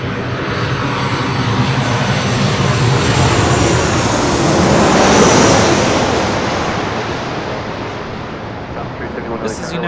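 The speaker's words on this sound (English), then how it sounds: "This is United Airlines 1314 coming in from San Francisco on a 737-800" A United Airlines Boeing 737-800 arriving at LAX roars past, its jet engines swelling to a loud peak midway and then fading, with a faint voice underneath.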